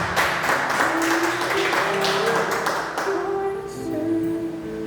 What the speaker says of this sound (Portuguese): Aplaudam o Senhor, igreja.